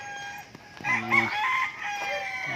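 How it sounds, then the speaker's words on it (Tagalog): Chickens on a rural farm in the late afternoon settling to roost, with a rooster crowing and hens clucking nearby, layered calls overlapping against a quiet outdoor background. "Dadapo na yung manok kasi hapon na."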